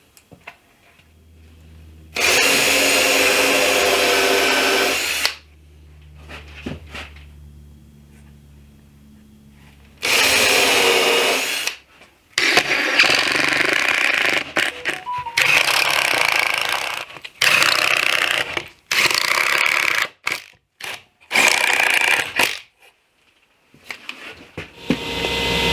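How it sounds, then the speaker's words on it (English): A power drill whirs in several loud bursts as it bores pilot holes and drives screws into wood while building a table saw crosscut sled, with short quiet gaps between bursts. "I'm just going to clamp it and hold it in place while I drill some pilot holes."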